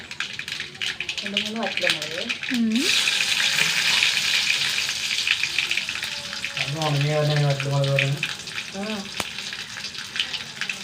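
Mustard seeds and dried red chilies frying in hot oil for a Kerala-style tempering, a steady loud sizzle and crackle throughout with a voice talking over it at times.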